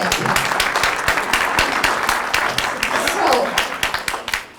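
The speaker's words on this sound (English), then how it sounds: "Real quick round of applause to Ben for his slideshow" Audience applause for a slideshow at a wildlife talk, a steady wash of many hands clapping that fills the room, with voices mixed in, before it cuts off abruptly at the end.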